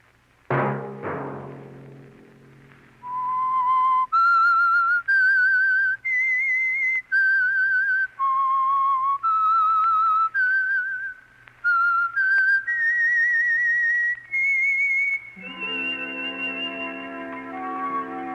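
A person whistles a clear, steady melody of sustained notes, close and loud, ending as orchestral music swells in, from a 1951 radio drama broadcast.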